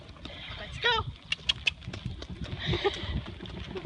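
A horse on a farm walks with soft, irregular hoof clip-clops, fairly faint, mixed with bird chirps and light background noise.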